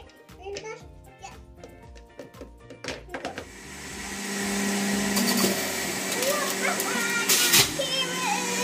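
Kitchen blender whirring as carrots are juiced, a steady loud motor drone that builds midway and carries on beneath a child's chatter and occasional adult voices.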